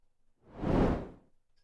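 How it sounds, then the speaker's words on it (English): A single smooth transition whoosh swells up and fades away over about a second, clean and isolated against near silence. "So you see that uh, the transition has sound effect already."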